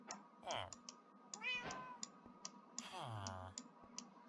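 A Minecraft cat meows three times, clear and close, with rising and falling cries, while keyboard and mouse clicks tick steadily around them.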